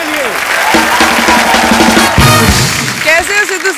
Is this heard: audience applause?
yes